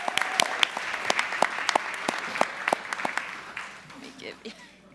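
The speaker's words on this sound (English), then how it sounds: "Let's give Ms. Cheryl McLaughlin a round of applause as we recognize her." A school board meeting audience in Hampton applauds to honor Ms. Cheryl McLaughlin, a burst of mixed clapping with some louder individual claps close by that thins and fades out toward the end, with faint voices underneath.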